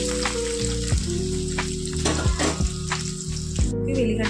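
Onions and green chillies sizzle in hot oil in a pan for dondakaya curry, a close, continuous crackle broken by a few stirring scrapes.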